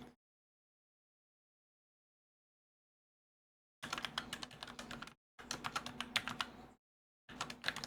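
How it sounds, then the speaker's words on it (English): Fast typing on a computer keyboard, close and clear, in three separate bursts of rapid clicking broken by silent pauses. "typing on this is so much better than that other keyboard"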